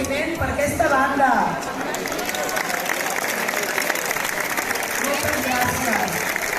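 Crowd applause at a giants' gathering in Moià, broad clapping noise filling the whole stretch with murmured chatter, swelling briefly near the start and holding steady, with talk over it early on.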